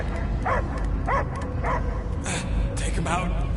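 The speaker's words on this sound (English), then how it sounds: "I hear only barking" A dog in the Guardians of the Galaxy video game gives several short yelping barks at a steady pace over a dense, constant game backdrop with a voice-like layer.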